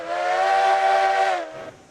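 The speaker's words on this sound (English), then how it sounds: "This is the one with the really loud whistle." A loud, steady coal-fired steam locomotive whistle in the video game Railroads Online, with a bright, layered tone, blows for about a second and a half, then cuts off and fades into a soft hiss.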